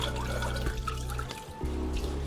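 Water drains steadily as rinsed bitter leaves are strained for Edikang Ikong soup, a continuous close splashing trickle with small drips and gurgles throughout.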